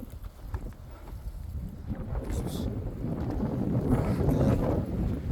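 Strong wind buffeting a microphone on a mountain peak, a rough, rumbling gust that swells and grows louder toward the end, with faint speech-like sounds mixed into the roar.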